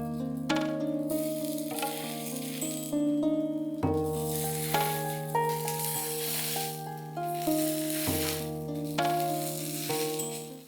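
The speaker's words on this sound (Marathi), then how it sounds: "त्याच चपातीच्या तव्यावर गरम असतानाच कटलेट भाजले तरी चालतील" Beetroot cutlets fry in ghee on a hot chapati griddle, giving a soft, steady sizzle under loud, sustained background music that sets in again several times.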